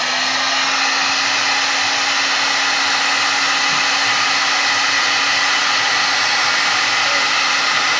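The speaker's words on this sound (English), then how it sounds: "It's just, for me, a lot easier to use a heat gun." A heat gun blows a steady, loud broadband rush with a faint constant hum while shrinking heat-shrink tubing onto a racing wiring harness for a 3G Eclipse, running unbroken the whole time with no talking.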